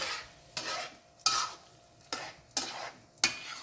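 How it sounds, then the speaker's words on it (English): Spoon stirring yogurt into beef keema in a hot pan, five scraping strokes at a steady rhythm over a soft sizzle, close and without talk. "So like this you have to mix it well"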